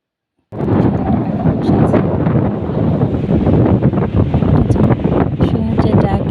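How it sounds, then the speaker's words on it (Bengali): Strong seaside wind buffets the microphone in a continuous loud, rumbling roar that begins abruptly and stays steady to the end. "এত বাতাস হচ্ছিল এখানটাতে।"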